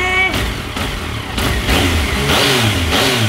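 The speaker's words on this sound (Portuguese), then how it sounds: "Vamos dar uma acelerada." Yamaha MT-09 motorcycle with a modified exhaust, revved hard in several quick throttle blips that rise and fall, loud and close, ending in a sustained higher rev.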